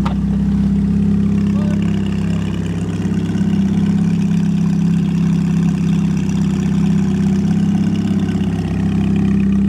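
A Ferrari F430 engine idles nearby in a parking lot, holding a loud, steady low hum with an even throb throughout and no talk.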